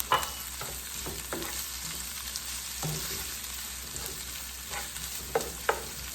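Sausages fry in a pan with a continuous soft sizzle, broken by occasional sharper crackles and scraping stirs.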